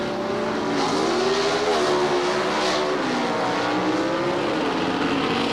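Pro Stock drag race cars, an AMC Hornet X and a big-block Camaro, launching at the 1976 NHRA Gatornationals, loud engines roaring together with pitch climbing and wavering through the gears, distant and unbroken, with no talking.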